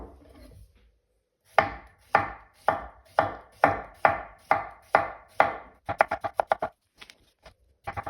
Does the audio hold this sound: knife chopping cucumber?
yes